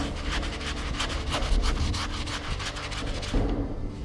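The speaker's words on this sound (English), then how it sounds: "if you scrub with this one, it definitely comes off a little bit more" Plasti dip coating scrubbed by hand after soaking in diesel, a steady rapid rasping rub repeating in quick strokes for the whole stretch, close and fairly loud, with no voices.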